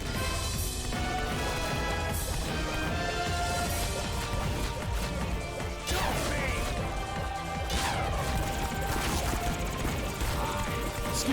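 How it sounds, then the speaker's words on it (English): Team Fortress 2 boss-battle gameplay, with dense continuous gunfire, crashing explosions and clanking mechanical impacts layered under busy game sound effects, loud and relentless throughout. "I see that Metazard is very low, so I kill him with the explosion"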